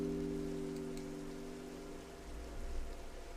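Rain falls steadily in the Minecraft video game, a soft continuous hiss with a faint hum underneath, gently swelling toward the end.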